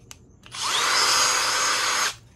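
A Milwaukee M12 Gen 3 drill/driver spins up to full speed and holds a steady high whine for about a second and a half before winding down, close and loud.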